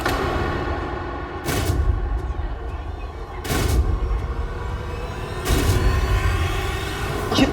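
Magic firecrackers bursting in three loud, evenly spaced bangs about two seconds apart, each over a dense, steady rumbling background.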